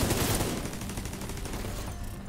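Rapid automatic gunfire in the shooter game The Division 2 rattles in a dense, continuous burst, loud at first and easing slightly as it goes on, with no talking.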